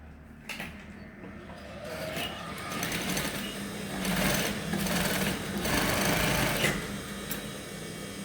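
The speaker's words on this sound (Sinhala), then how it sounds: "ඊට පස්සේ අපි මෙහෙම මහගෙන යනවා." Sewing machine stitching a folded fabric seam, a steady whirring run that starts softly, builds and continues for several seconds at close range, with faint handling rubs and no talk.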